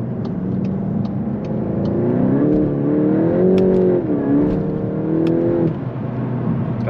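A stock-exhaust Volkswagen Golf 8 GTI Clubsport with 300 horsepower accelerates hard on dry pavement, its engine note rising steadily and loud and close, with a brief dip and climb in pitch as the power struggles for grip.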